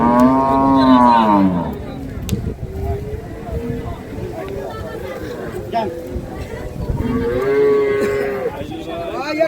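Dairy cow with calf at a village cattle market in Ambari, mooing loudly and close at the start and again near the end, amid steady crowd chatter and people talking.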